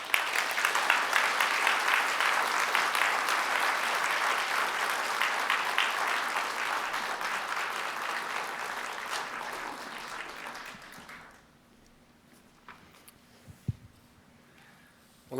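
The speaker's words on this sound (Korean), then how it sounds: "나오실 때 힘찬 박수로 모시겠습니다" A church congregation at a Sunday service applauds to welcome the preacher, a dense steady clapping that runs about eleven seconds before quickly fading to near silence, with a couple of faint knocks afterward.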